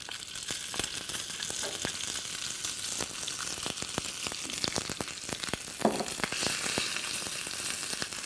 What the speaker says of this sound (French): Et on va le sauter à la poêle. On y ajoute 2 traits d'huile d'olive.